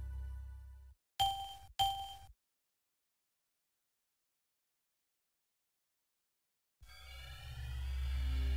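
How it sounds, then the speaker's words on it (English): Windows NT startup chime sounding during a Windows ME upgrade on a Packard Bell PB570 computer: two short bright tonal hits in quick succession, loud and clear, with no talk over them and silence following. "It plays the Windows NT startup sound when you select yes."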